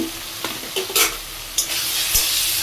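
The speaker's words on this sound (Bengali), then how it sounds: "ভাজা ভাজা করতে হবে। একটু ভেজে নেব।" Oil sizzles steadily in a pan while a spoon scrapes and stirs in a few quick, sharp strokes, frying salt, turmeric, chili powder and cumin powder.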